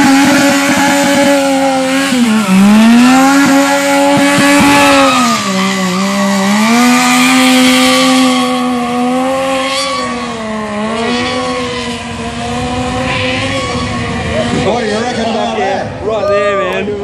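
A stunt motorcycle at a breakfast torque stunt show revs hard and holds high, wavering engine notes while warming its tyres, loud and close for the whole stretch, with a commentator speaking over it.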